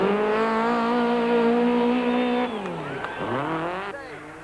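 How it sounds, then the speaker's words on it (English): Rally cars racing through a stage at the Swartland Rally in 1993, a loud engine note holding high revs before dropping and climbing again through gear changes, with a second car's swelling pass trailing behind. "The smaller Class C cars then enter the stage at an obviously slower pace compared to their big Class A brothers."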